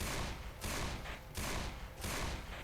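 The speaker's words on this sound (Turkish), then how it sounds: "Bu tek atıyor arkadaşlar bu arada bu tabanca." In the video game Left 4 Dead 2, a pistol fires four single shots in a steady rhythm, each a loud, close, broadband crack that slowly fades before the next.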